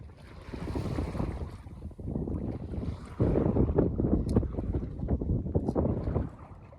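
A sailboat moves through the water about 3.3 miles offshore with a rushing, splashing wash and gusty wind buffeting the microphone, growing louder midway through.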